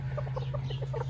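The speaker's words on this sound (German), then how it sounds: "Stolzen Gockel. Einer stolzer als der andere." Serama chickens clucking in a steady scatter of short calls over a constant low hum, close by, with no crowing evident.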